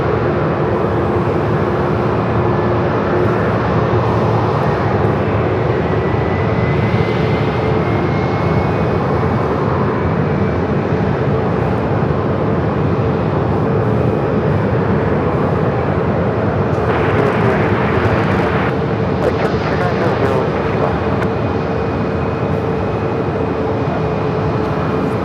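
An American Airlines A321neo jet airliner roars steadily at Phoenix Sky Harbor airport, a continuous broad engine rumble with a faint rising whine that swells slightly midway and holds for the whole stretch.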